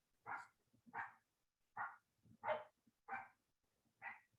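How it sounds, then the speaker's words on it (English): Dogs bark in the background during an online committee meeting, six distinct barks in a loose, evenly spaced series, fairly faint and otherwise alone against quiet. "excuse my dogs in the background if y'all can hear that"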